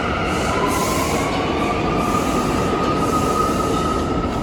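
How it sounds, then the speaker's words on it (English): A New York City subway train rolling out near Penn Station, a continuous loud rumble with a sustained wheel squeal and rattling carriages close by. "so there goes our last subway in New York City."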